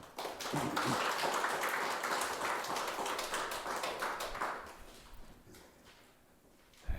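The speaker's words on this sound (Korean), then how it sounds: "우리 하나님께 감사와 영광의 박수 올려드리겠습니다" A church congregation claps in applause, a dense burst of many hands that fades out over several seconds.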